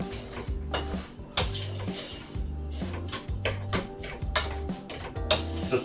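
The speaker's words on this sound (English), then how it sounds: "Pan's noisy, it bounces around on because it's not flat on the bottom." A thin aluminum pan with a warped, uneven bottom bounces and rattles on the stove, loud repeated metallic clanks in an irregular rhythm with scraping and stirring clatter between them.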